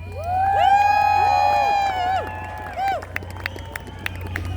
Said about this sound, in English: I want a round of applause for these two for everything they do for this community.